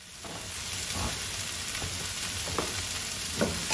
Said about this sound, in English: we're going to saute those up for a while so they get nice and caramelized and melded together